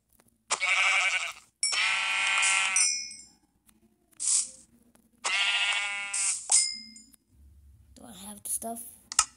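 Blocky Minecraft sheep let out several buzzy, wavering bleats in a loose sequence, some long and some short, with small clicks between them and a brief rougher burst of noise near the end.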